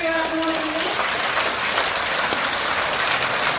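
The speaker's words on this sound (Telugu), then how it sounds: "అందరూ కలిపి చేతులు ఎత్తి క్లాప్స్ ఇవ్వండి" An audience claps at a Bhagavad Gita celebration held at the Annavaram Satyadeva temple, dense, steady applause from a large crowd sustained throughout, with a brief voice at the very start.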